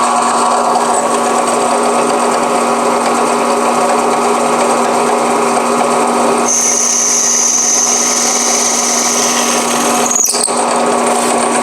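A drill with a peghead bushing reamer cuts a hole in a maple guitar headstock, a loud, continuous high whine that shifts pitch midway and cuts off near the end, with no talking.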